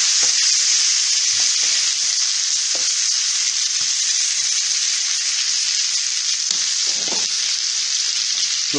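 Food frying in a pan gives a steady, close sizzle that holds throughout, with a few soft clicks and taps from a utensil now and then.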